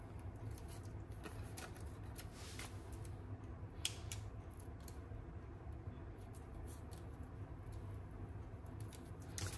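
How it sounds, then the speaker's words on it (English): Scissors snip paper while trimming pieces for a handmade craft card, a few quiet, brief cuts scattered over steady low room noise with no talking. "I'm just gonna kind of cut a couple like that."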